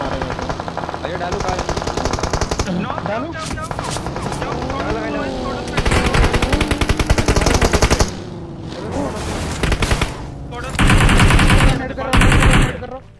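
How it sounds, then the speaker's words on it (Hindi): Automatic weapon fire in a mobile battle-royale shooter during a 4v4 squad fight, with repeated loud bursts alongside a helicopter-like engine drone and players talking over the action. "शेंटर में गोलियां चल रही हैं"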